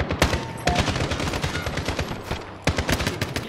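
Rapid gunfire from Call of Duty: Modern Warfare, with dense automatic bursts and sharp individual shots crackling close and loud, continuous for several seconds with no voices over it.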